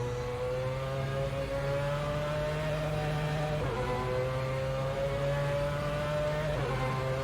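Mazda 787B race car at Monza, its rotary engine holding a steady, loud high-pitched drone with two brief shifts in pitch as it runs by, close and alone with no talk.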